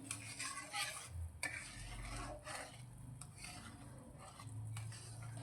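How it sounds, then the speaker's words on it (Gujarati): Sugar syrup for mohanthal bubbling in a pan on the stove, with a steady low boil and occasional metallic stirring scrapes, close and continuous with no talking. "તો ફરી તેને આપણે બે મિનિટ માટે ઉકળવા દઈશું"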